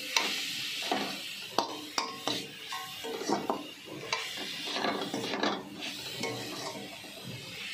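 Coconut filling with crushed cardamom is stirred in a pan, a spatula scraping and clicking in repeated strokes over a soft sizzle, close and moderately loud, with no voices.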